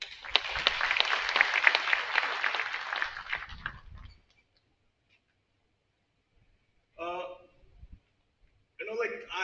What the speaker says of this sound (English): give a round of applause to those students.